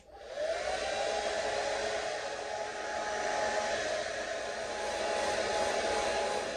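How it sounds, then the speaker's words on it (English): A hair dryer blowing 4C natural hair dry, a steady loud whooshing roar that starts abruptly and holds at an even level throughout, with no voices. "So I'm gonna blow dry this for however long it's gonna take for this to set up and dry."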